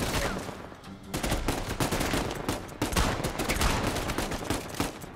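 Dense, sustained gunfire from Uncharted 4: A Thief's End, rapid overlapping shots filling the whole stretch after a brief dip near the start, loud and continuous with no talk.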